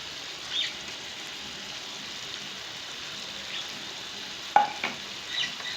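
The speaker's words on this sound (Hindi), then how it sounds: "इसी को मिक्स करें।" Coriander and dried fenugreek leaves are stirred into frying masala for a fish curry, with a steady, moderate sizzle and a few sharp spoon scrapes against the pan.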